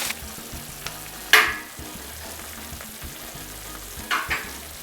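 Paella ingredients sizzle in a pan over lowered heat, a steady fry crackling close by, with a couple of sharp louder hisses and clatters as the food is stirred.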